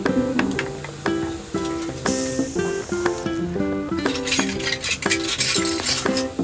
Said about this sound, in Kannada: ಇದಕ್ಕೆ ಹಳದಿ ಪೌಡರ್ ಹಾಗೂ ಉಪ್ಪನ್ನು ಸೇರಿಸಿ ಮಿಕ್ಸ್ ಮಾಡ್ತಾ ಇದ್ದೇನೆ.